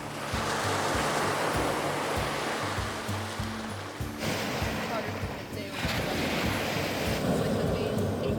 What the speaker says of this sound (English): there is the beach right behind us that I will show you guys